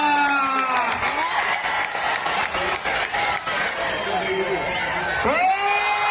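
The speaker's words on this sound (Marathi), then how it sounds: "खरा की टाळ्या" A crowd at a traditional kushti wrestling bout between Deva Thapa and Haryana's Pawan cheers and claps loudly and continuously, with an announcer's voice and whistles ringing over the noise.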